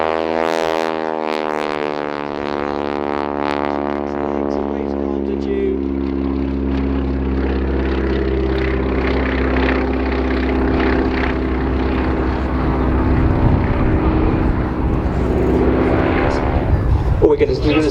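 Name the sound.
warbird aircraft coming in to land at airshow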